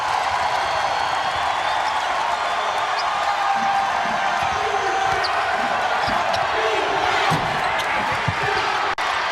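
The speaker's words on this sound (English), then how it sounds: "Listen to this crowd." Basketball arena crowd at an Ole Miss game roaring in a loud, sustained wash, with sneaker squeaks and a bouncing ball faintly through it and a commentator's voice underneath.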